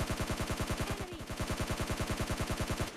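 Automatic gunfire in the mobile game PUBG Mobile Lite is a rapid, evenly spaced stream of shots, roughly ten per second, firing without pause at moderate loudness.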